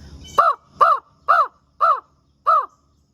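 A crow caws five times in an evenly spaced series, each call harsh and clear against a quiet background.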